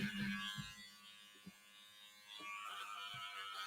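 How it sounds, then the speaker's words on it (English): An electric stitch ripper buzzes as it removes serger stitches, a quiet steady motor hum with small changes in pitch and a few faint ticks, heard alone. "I can actually use the stitch ripper to remove my serger stitches as well"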